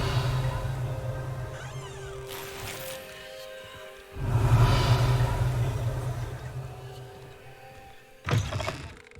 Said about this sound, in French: C'est pas le chien, c'est le chat